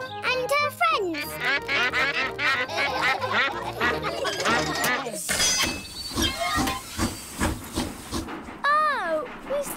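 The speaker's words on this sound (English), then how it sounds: "It's Mrs. Duck and her friends." Cartoon ducks quack in a children's animated episode while a stopped train hisses steam, the quacks bright and repeated, mixed with music and a voice.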